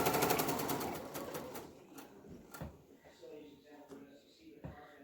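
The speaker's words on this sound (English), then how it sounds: "stitch all the way to the next corner, or all the way down to the next corner anyway, at a 1/4 inch seam allowance" A sewing machine stitches a fabric face-mask seam at a quarter-inch allowance, a busy run of rapid needle clatter that eases into scattered clicks, with a person talking throughout.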